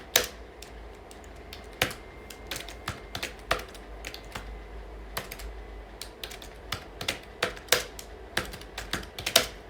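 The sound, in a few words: typing a name on a computer keyboard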